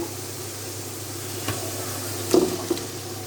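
Fish pieces dropped into spice paste frying in hot oil, a steady sizzle under a low hum with a few sharp bursts of crackle near the end.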